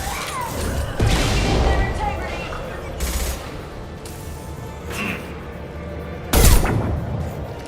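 Gunfire in the sci-fi shooter Mass Effect 2 during a firefight against Eclipse mercenaries: scattered loud shots and bursts crack out irregularly, with the heaviest blast near the end, over continuous battle noise and intermittent voices.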